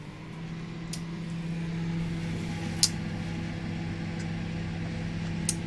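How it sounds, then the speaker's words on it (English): A microwave oven heating butter gives a steady low electrical hum with a constant fan whir, running evenly throughout, with a couple of faint small clicks and no talking. "I'll give that a heat in the microwave"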